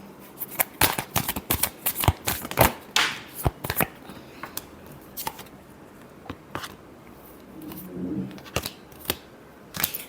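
Tarot cards being shuffled close up, a quick series of crisp riffling snaps and flicks in irregular bursts, with a quiet voice speaking briefly.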